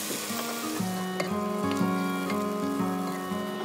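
Beef mince frying in a pan, a loud, close sizzle with intermittent scraping and stirring clatter from a utensil, continuous without talk.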